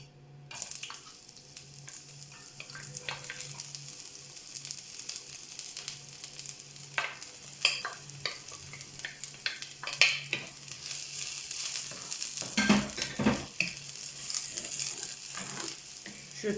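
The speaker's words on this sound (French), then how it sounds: "J'attends que l'huile chauffe pour pouvoir mettre l'ail plus les oignons que j'ai préalablement découpés" Garlic and onions fry in hot oil in a pan, a continuous sizzle that grows louder and busier toward the end, punctuated by clinks and scrapes of stirring, with no voices.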